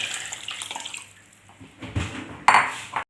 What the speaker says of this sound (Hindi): और ये जो लहसुन वाला पानी है ये भी डाल देंगे।